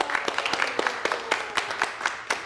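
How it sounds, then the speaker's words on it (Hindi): An audience claps in a steady rhythm, a series of sharp, fairly close claps repeating roughly every quarter second throughout. "आज़रबाईजान के लिए ताली।"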